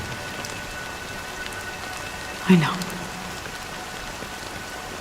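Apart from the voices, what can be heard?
rain falling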